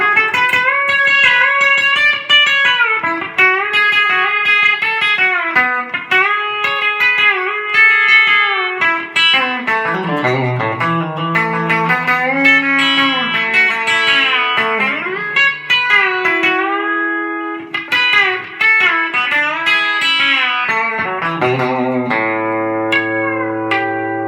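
Electric guitar with a B-bender playing the Mooney lick, a fast country phrase with bent notes and sliding pitches, clear and loud, played solo throughout.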